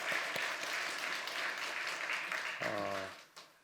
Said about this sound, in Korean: 오늘 귀한 말씀 전해주신 우리 엄태웅 목사님께 감사의 박수 올려드리겠습니다